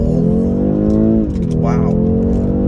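A 2022 BMW 430i xDrive pulls through a U-turn at full throttle, its engine a steady, loud drone with a pitch that dips and climbs again. A voice talks over it throughout.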